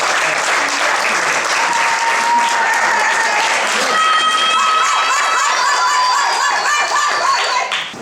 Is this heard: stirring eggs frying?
no